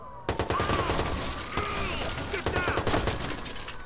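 Gunfire in the Watch Dogs video game: rapid automatic bursts crackle almost continuously at close range, with short pauses between volleys and a faint groan in the mix.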